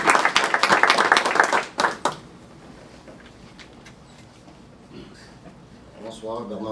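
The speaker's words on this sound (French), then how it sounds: "Une bonne main d'applaudissement pour votre travail." Audience members applaud at a city council meeting in Mercier, a short, fairly close burst of clapping lasting about two seconds before fading into room quiet and then a voice speaking.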